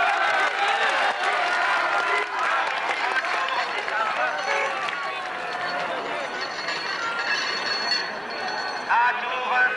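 A stadium crowd cheers as the first Tour de France riders ride in at the Saint-Brieuc finish in 1972, a broad, steady roar that continues under a commentator's voice.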